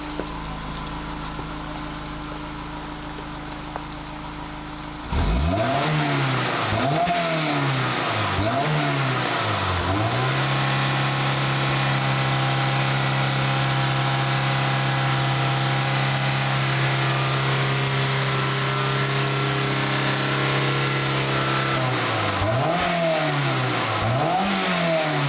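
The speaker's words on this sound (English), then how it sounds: "let me rev it up for you guys" A Honda S2000 engine, just repaired for burning oil with new valve seals, idles quietly and then is revved several times in sharp bursts before settling into a loud, sustained high-rpm hold, with one more rev near the end.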